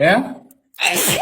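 A woman sneezes during a sneezing fit, one short sharp burst followed by a brief silence and then a short spoken word.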